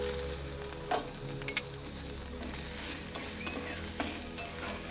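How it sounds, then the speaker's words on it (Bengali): Chopped ginger and garlic fry in hot oil with a steady sizzle while cardamom is also in the pan. A spoon or spatula scrapes the pan in a few sharp clinks, and no one speaks. "আদা কুচি, রসুন কুচি এগুলোকেও একটু হালকা আছে ভেজে নেব"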